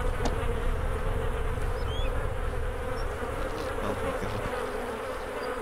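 Steady insect buzzing from bees in the video game DayZ fills the whole stretch at moderate loudness, with a brief exclaimed voice near the start.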